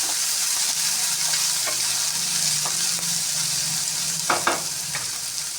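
Thinly chopped onions fry in a pan with a loud, steady hiss, punctuated by a few brief scrapes of stirring near the end.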